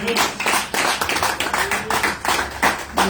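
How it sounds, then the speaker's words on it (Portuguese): A church congregation claps together during a Tuesday worship service, a brisk rhythmic run of close, loud claps in steady bursts with a few short pauses. "Vamos celebrar com as palmas de Jesus."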